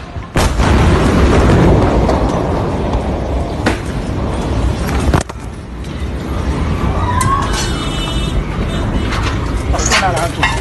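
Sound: large explosion in Beirut

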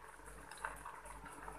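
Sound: green gram boiling in a pot

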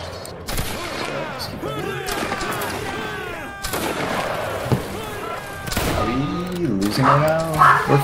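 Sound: musket volley fire in Napoleonic Wars video game

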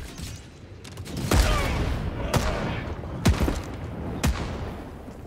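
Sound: mortar fire in video game Helldivers 2

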